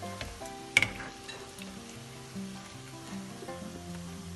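Tofu frying in hot oil, a low steady sizzle with a brief sharp crackle early on, heard alongside faint background tones and no speech.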